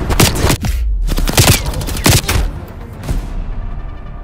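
Gunfire in Call of Duty Black Ops Cold War comes as loud, close bursts of rapid shots and booming reports that repeat several times, then trail off into quieter rumble.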